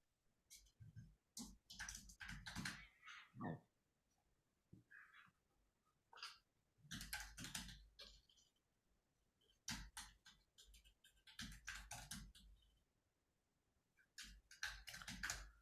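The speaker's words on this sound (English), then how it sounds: "Can you hear me typing on my keyboard?" Bursts of clicking keystrokes come in irregular clusters with short pauses between, faint and close, like someone typing on a computer keyboard.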